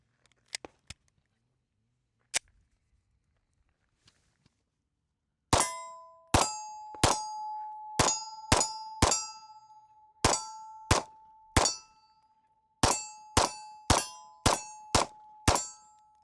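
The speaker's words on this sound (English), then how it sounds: "let's go ahead and do a little shooting" A compact concealed-carry handgun fires fifteen sharp, loud shots in three quick strings, each crack followed by a lingering metallic ring, after a few faint clicks in near silence.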